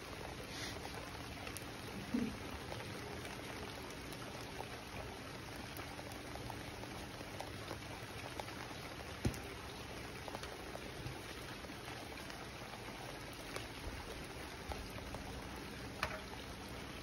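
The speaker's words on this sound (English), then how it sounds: "It's raining." Steady light rain falling outdoors in cold weather, a soft continuous patter with a few scattered louder drops, fairly faint and even throughout, with no talking.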